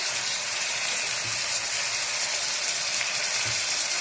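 Tomatoes and green chillies sautéing in a pan for a wheat rava biryani give a steady, close sizzle with soft low knocks of stirring now and then.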